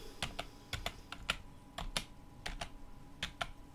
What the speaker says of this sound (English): I'm gonna type in the word bread